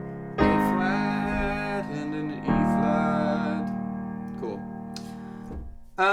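Piano playing the pre-chorus chord loop of a song, a slow progression of sustained chords struck at a steady pace, each ringing and decaying before the next, close and clear with no talk.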